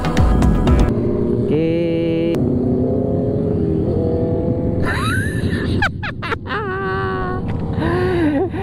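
Motorcycles and big bikes ride past on the Marilaque mountain road during a Sunday breakfast ride, with loud engines revving and whining up and down in pitch, close by and passing one after another.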